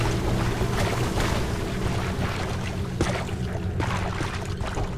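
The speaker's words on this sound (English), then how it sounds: "Sounds like the water's coming in this room." Water rushing into a room in the Ghostbusters video game, a steady, dense roar of flowing and splashing with occasional sharper splashes, loud and continuous with no talk.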